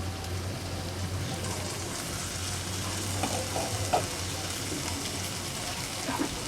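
Bitter gourd curry with jaggery stirred with a spoon in a pan over low heat, a soft, even simmering hiss with faint scrapes scattered through it.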